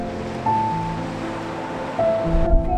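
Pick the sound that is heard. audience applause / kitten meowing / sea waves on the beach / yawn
sea waves on the beach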